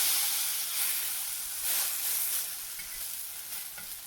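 Patties frying in a pan, a close, steady, unbroken sizzle and hiss at a consistent level throughout.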